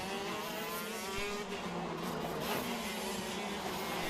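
Racing karts at an Eastern Goldfields Kart Club heat race, engines droning continuously with layered buzzing tones as several karts circuit nearby in lap traffic.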